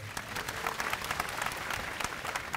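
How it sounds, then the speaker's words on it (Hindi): A rally crowd in Bhubaneswar claps together in a brief, moderately distant burst of dense applause, with scattered sharper claps standing out from the steady mass. "मंच पे बैठे लोग, सामने वालों के लिए एक बार जोरदार ताली बजा दो"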